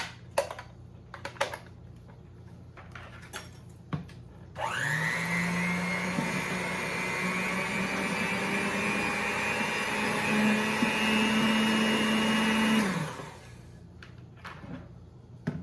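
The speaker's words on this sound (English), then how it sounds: "I'm gonna get my mixer." An electric kitchen mixer whirs steadily for about eight seconds while ham and potato soup is being made, starting abruptly and cutting off cleanly, loud and close, with quieter kitchen clatter before and after.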